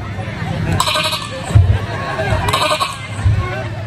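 A preacher at a village Maulid Nabi celebration gives a couple of quick bleats imitating a young goat, heard over a low hum of audience babble.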